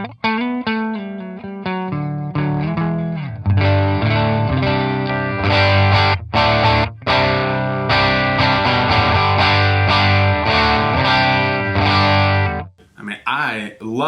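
An electric guitar played through a Line 6 Helix amp model with depth and presence turned up rings out distorted: sustained chords and riffs with a few sharp stops, ending in a brief high flourish.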